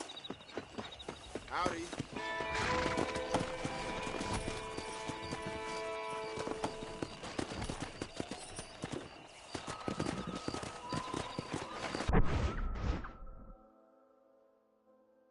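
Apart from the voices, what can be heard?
horses' hooves in a video game, Red Dead Redemption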